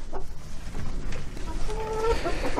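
Hamburg chickens, two hens and a rooster, cluck and squawk close by in short irregular bursts, with a few rising higher calls toward the end over a low background hum.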